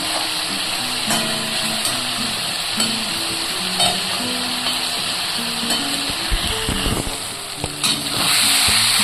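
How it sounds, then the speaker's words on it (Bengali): Cauliflower in spice paste frying in oil for a cauliflower-and-egg curry sizzles steadily up close, with scraping stirs and occasional spatters throughout. "মশলাটা আমি একটু কষতে দেবো, একটু কষে গিয়ে তেল ছাড়লে"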